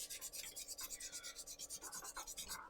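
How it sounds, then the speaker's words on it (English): Pen blank being sanded by hand at a workbench, a steady back-and-forth rasping rub repeating roughly ten times a second, fairly quiet and close, with no talking. "Get rid of the rest whilst I'm sanding."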